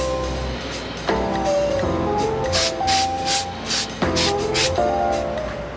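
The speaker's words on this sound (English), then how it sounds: "I'm spray painting them stone." Stone-effect spray paint hissing from an aerosol can onto drinking glasses, several short bursts of bright hiss in quick succession, close and fairly loud over a low background hum.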